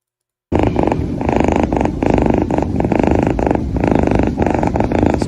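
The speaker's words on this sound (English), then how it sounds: "There's no way the cat's purring that loud." A cat purrs very loudly and close, a steady rhythmic rumble that starts abruptly and continues without pause, with no voices.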